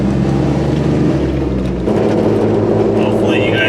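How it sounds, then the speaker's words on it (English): Loud, continuous roar of aggressive off-road tires rolling on pavement, a dense steady rumble filling the whole stretch while the vehicle drives along. "Hopefully you guys can even hear me with these crazy tires"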